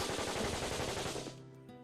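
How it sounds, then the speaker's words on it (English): Rapid bursts of automatic gunfire from the video game Hello Lady, a dense rattling volley that fills the space loudly and then cuts off into a short fading tail. "A moment later, I heard gunfire below."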